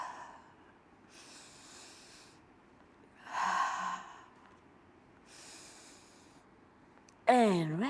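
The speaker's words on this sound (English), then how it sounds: "And we exhale." Soft, breathy exhalations during mat Pilates exercise come in several separate, airy bursts with quiet gaps between them, and a voice speaks briefly at the end.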